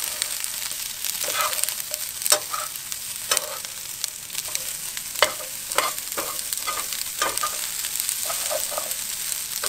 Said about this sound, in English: Kind of stir that up, get that oil up in there working around.